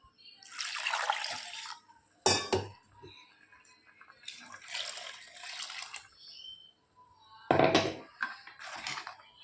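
Water pours in three separate bursts into bottle gourd payasam cooking with ground rice and coconut, each pour a splashy rush with a sharp clink of a vessel between, close up and without talk.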